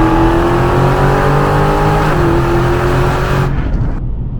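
A Scat Pack car with an automatic transmission accelerates hard on the throttle, its engine a loud, sustained, close-up roar with a steady tone that briefly shifts before cutting off abruptly near the end.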